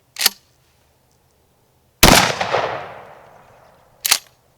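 Three shotgun blasts from a Remington 870 firing buckshot: a short sharp report, a louder shot with a long ringing tail about two seconds later, then a third short crack near the end.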